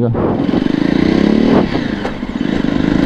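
A Jawa Perak motorcycle on a test ride gives a loud, close, steady engine rumble with a rapid low pulse, rising slightly before it eases back.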